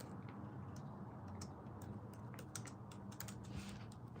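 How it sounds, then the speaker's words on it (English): Quick, irregular clicks of typing on a computer keyboard, close and fairly quiet over a low room hum, with no voices. "Let me type in some thank yous up in here."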